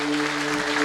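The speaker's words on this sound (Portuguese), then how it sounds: "Aplauda forte o nome de Jesus." A church congregation applauds loudly, a brief dense burst of clapping with a steady sustained tone beneath it.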